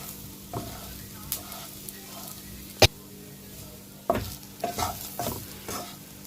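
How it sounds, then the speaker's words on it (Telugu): Stuffed bitter gourd pieces being slowly stirred through spice mix in a pan, with a spoon scraping and knocking at intervals over a soft, steady sizzle, and a few sharp clinks standing out. "అప్పుడు ఇలా స్లోగా కలుపుకోవాలన్నమాట."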